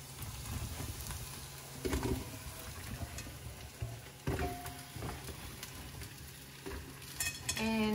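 About eight sliced zucchinis hit a pan of browned onion for zucchini soup, setting off a steady, loud sizzle with bursts of stirring and scraping throughout.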